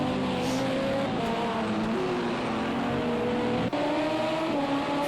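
Race cars in Project CARS 2 at Imola (Autodromo Internazionale Enzo e Dino Ferrari) in an LMP2/GTE multiclass race, engines droning steadily with shifting pitch as cars run close together, a continuous loud roar throughout.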